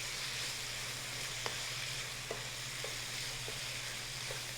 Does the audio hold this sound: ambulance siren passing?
no